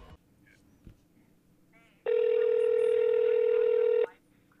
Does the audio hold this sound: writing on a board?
no